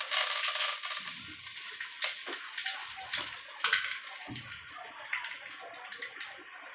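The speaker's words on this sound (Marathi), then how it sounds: "आता आपण तेल टाकलेत कढीपत्ते." Curry leaves crackle and sizzle in hot oil in a pan for a crab curry, a steady bright spitting hiss with a few louder pops and stirring clatter.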